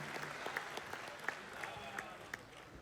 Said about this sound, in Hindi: एक बार बाद तालियां बजा दो भाई